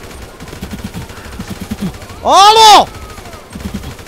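A burst of Kalashnikov rifle fire in the video game GTA V, loud and brief in the middle, with a voice shouting before it and game background sounds around it.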